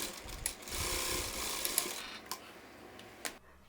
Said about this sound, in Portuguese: E eu vou lá pra máquina reta, vou passar uma costura aqui